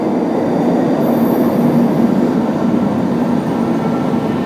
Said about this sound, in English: But here comes an RT train.